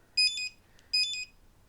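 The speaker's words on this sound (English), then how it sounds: "ding dong ding and a beep beep so that it so that you know that the results are uploading" A parkrun barcode scanner plugged in to upload results gives two short, bright electronic chime bursts close by, separated by a brief pause, with no talking.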